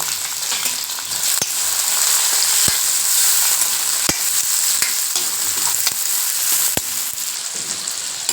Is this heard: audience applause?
no